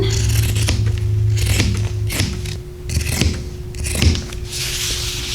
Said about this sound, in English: To cut the yoke, I have this piece here of my selvage